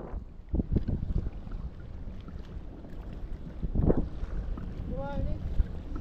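A boat passes at sea near a fishing kayak off Melaka, heard as a steady broadband wash under strong wind noise, with voices talking close by and a brief whistling tone near the end.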